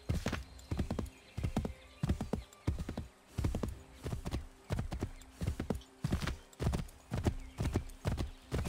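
A horse gallops steadily in the video game Assassin's Creed III, a close, regular clip-clop of hooves repeating in even bursts for several seconds, with faint background tones and no talking.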